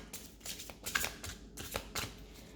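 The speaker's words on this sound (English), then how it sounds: "first I'm just clearing the cards" Playing cards are shuffled up close in a quiet room, with a handful of short papery riffle bursts coming in an uneven rhythm and no voices.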